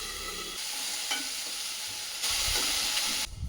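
Spices and salt frying in oil over a medium flame for a Bengali-style vegetable fry, with a steady close sizzle, a few stirring knocks, and a louder surge of hissing partway through.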